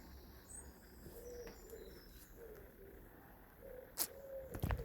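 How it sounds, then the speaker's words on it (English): Several short bird calls and chirps scattered over a quiet outdoor background, moderately distant, with a couple of sharper notes near the end; a blackbird calling near a house roof. "There's the blackbird again."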